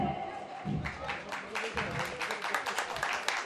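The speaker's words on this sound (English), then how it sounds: "Give a big round of applause for them." Audience applause at a college cultural fest, AIEM's Arpeggio 2019, a spread of scattered claps building through the room, moderately loud, with talk and crowd voices underneath.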